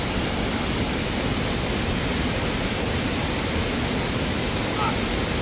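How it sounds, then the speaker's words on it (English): A small waterfall in Ojos del Caburgua park, Chile, pours as a constant, dense rushing wash of water that fills the whole scene, loud and even with no breaks. "That's perfect, huh? Little waterfall."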